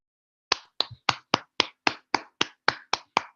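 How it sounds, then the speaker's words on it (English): Roughly eleven sharp, evenly spaced claps from a small audience after a presentation. They sound close and crisp with no voices among them, starting after half a second of silence. "Can we really clap for them?"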